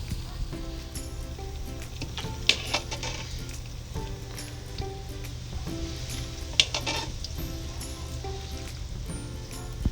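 Onions sizzle and fry steadily in oil in a pan for a Turkish eggplant casserole, with a constant hiss broken by a few sharper clinks of a utensil against the pan. No one speaks.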